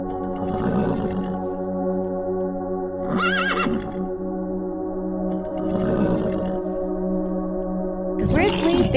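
Several loud horse whinnies ring out in separate bursts over a steady, busy background hum of other animal and crowd noise.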